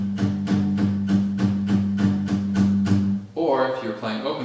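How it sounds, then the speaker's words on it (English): An acoustic guitar strums a quiet, straight complementary rhythm in even, regularly repeated chords, close and alone, before another guitar figure enters near the end. "So on a guitar, it would sound like this."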